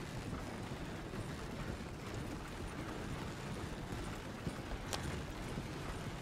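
Horse hooves clip-clop steadily in a Red Dead Redemption 2 game scene, a continuous soft patter of steps under a broad wash of ambient noise, with no talk.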